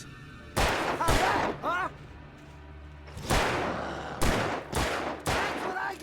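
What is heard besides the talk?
gunshots from the video game Alan Wake Remastered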